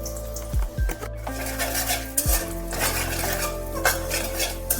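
Masoor dal tadka with Kashmiri chili powder and kasuri methi is stirred in a pan over a steady sizzle, with repeated scraping strokes and clinks of the spoon against the metal and no voices.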